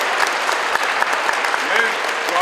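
Steady audience applause at a sports gift ceremony for athletes in Akhalkalaki, dense clapping filling the whole stretch with a few faint voices underneath.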